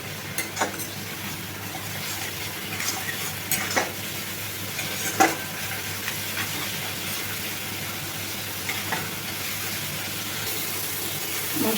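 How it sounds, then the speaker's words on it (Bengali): Spices, grated ginger and garlic with a splash of water fry for khichuri, giving a steady close sizzle with scattered spoon scrapes and clicks throughout, no talking. "এবার ভালো করে সব কিছু কষিয়ে নেব।"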